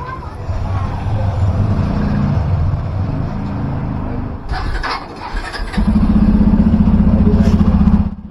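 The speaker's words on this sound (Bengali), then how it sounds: "তারপর বাইকটা স্টার্ট করে ফার্স্ট গিয়ারে দিয়ে কিছুক্ষণ রেখে দিলাম।" Engine of a Bajaj Pulsar F250 motorcycle idling in first gear after a chain wash and WD-40 lube: a loud, steady low rumble that drops briefly, then returns with a stronger even drone, close up.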